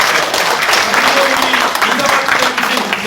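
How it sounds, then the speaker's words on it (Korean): Audience applause at a Korean National Assembly forum on abolishing lawmakers' privileges, a loud, dense and steady wash of clapping from a large crowd that fills the whole moment. "여러분 자신을 위해서 박수 보내주시기 바랍니다."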